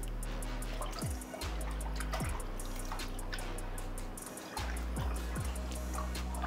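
Water is drained from an aquarium during a large water change, a steady close trickle and dribble of flowing water with a brief dip near the middle and a few soft low knocks.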